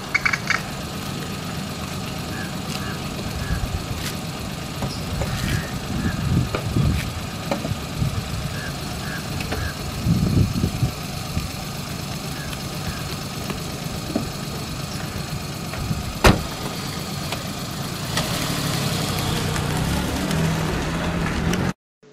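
A car's engine idles at a stop with a steady low rumble and vibration throughout, close by, with faint clicks and a few brief knocks, and a louder rise near the end before it cuts off.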